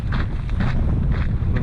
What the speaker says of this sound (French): Je sais pas si vous entendez bien, il y a du vent.